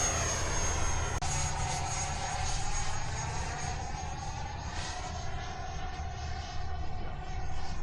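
A small plane flies with a steady, close propeller-engine drone and its airframe rush, holding an even loud tone throughout with no talk over it.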